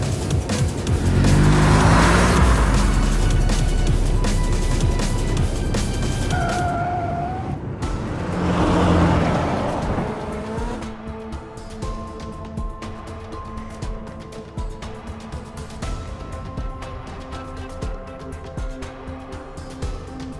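A video game car drives hard with squealing tires, engine roar building and swelling in two loud surges before settling into a lighter rumble with game music tones beneath.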